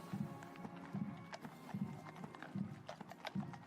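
Horses' hooves clip-clop in a regular, measured rhythm along the road during the Queen's funeral procession, faint and slightly distant, with soft crowd ambience around them.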